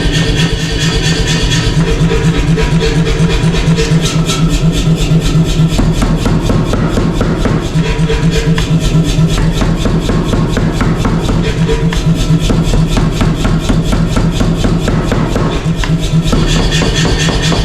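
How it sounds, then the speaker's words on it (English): A power hammer forges a one-heat taper on the end of a steel J-hook held in the guides, a fast, steady, continuous train of heavy blows running loud through the whole stretch. "I'm gonna work it here in the guides of the power hammer"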